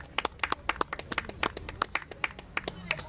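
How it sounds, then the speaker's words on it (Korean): Sparse claps from a small outdoor crowd at a pumba street-theatre performance by Nari, irregular sharp hand claps for about three seconds, fairly faint with no talking over them. "박수 한번 주세요"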